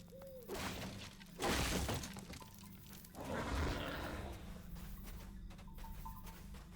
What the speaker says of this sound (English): we gotta burn the crates